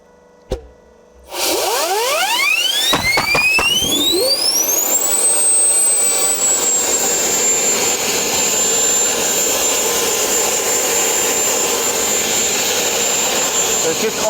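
A jet-powered dirt bike's turbine engine spools up after a sharp click, its whine rising steeply in pitch to a loud, steady high scream with a roaring rush underneath, close by and sustained.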